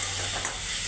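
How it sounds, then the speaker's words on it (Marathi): Stuffed eggplants fry in hot oil with a dense, even sizzle that holds steady and close throughout, with no talking. "मस्त तेलात फ्राय करून घ्यायचं"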